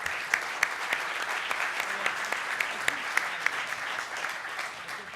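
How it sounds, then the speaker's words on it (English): An audience at a vision technology summit pitch competition claps for five presenters, a steady round of applause with sharp individual claps standing out, heard clearly without speech. "presenters a round of applause for taking the time today"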